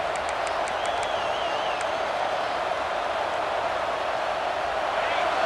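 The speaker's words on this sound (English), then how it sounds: "this crowd coming to life here, trying to help the defense get a stop" A football stadium crowd at an Auburn versus LSU game keeps up a continuous, even roar throughout, with a few faint whistles and sharp high tones poking through near the start.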